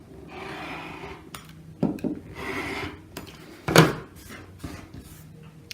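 Fabric for a half-square-triangle quilt block is trimmed along a ruler, giving several close scraping, rasping cuts, with one louder stroke among them.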